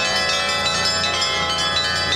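Church bells ringing during an Orthodox religious procession through a city centre in Bryansk, a dense continuous clang of overlapping peals, loud and steady throughout.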